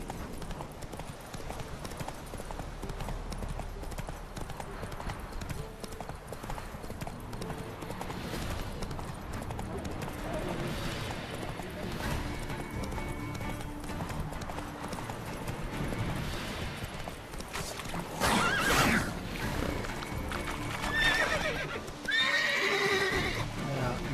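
Horse hooves clip-clopping at a gallop with neighing in The Witcher 3 video game, under game music and ambience, with a person talking over it.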